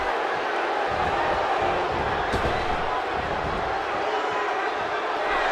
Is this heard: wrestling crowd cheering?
yes